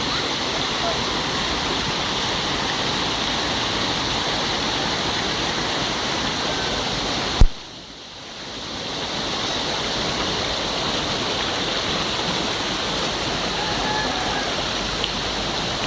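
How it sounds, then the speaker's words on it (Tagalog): Flash floodwater rushing in Latawan, Basilan, a dense, steady roar of fast-moving water close by, briefly interrupted by a sharp knock and a dip in the middle before the torrent continues. "Ang layo ng umabot ng baha."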